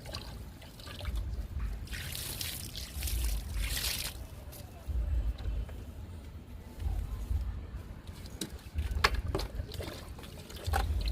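Liquid fertiliser is poured onto hibiscus plants in a home garden, trickling and splashing in several close bursts of moderate loudness, with soft handling noise between pours.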